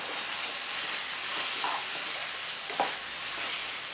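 Grated carrots and cauliflower stirred in a pan for pav bhaji, a soft steady frying hiss with two brief scraping stirs of a spoon, quiet and close.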